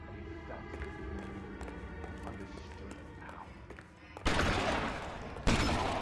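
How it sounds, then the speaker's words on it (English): Gunfire in the LA Noire video game: quieter background game sounds first, then two sharp, loud bursts of shots near the end. "What are you shooting at?"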